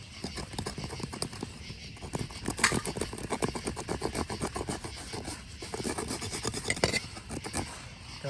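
A knife edge scrapes wet bark off small sticks at a lakeside campsite in quick, repeated rasping strokes, close and fairly quiet.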